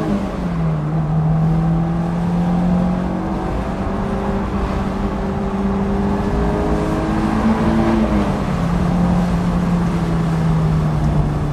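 Engine of a Honda S2000 droning and rising then settling in pitch through rev-matched downshifts while driving, loud and continuous with road noise and no talk.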